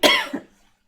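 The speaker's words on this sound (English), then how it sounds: "I'm starting to cough more and more" A single close, loud cough, a sharp harsh burst followed by a shorter second catch, then silence.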